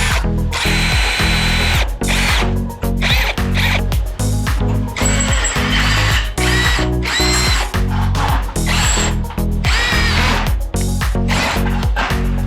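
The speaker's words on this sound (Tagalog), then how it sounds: "bubutasan natin siya" A power drill bores a hole in metal during a solar panel mounting job. Repeated loud bursts of whining, grinding drilling are broken by short pauses, close up with no speech.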